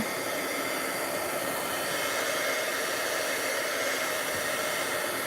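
A hair dryer blowing on wet craft paint, a loud steady whooshing hum that runs the whole time, no talk.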